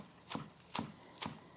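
Fresh garden parsley, just washed, chopped fine with a knife on a board: three separate crisp chops spaced about half a second apart, close and fairly quiet, with no talking.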